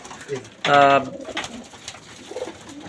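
Racing pigeons coo at a loft, one clear, loud, close coo standing out over softer cooing and background murmur.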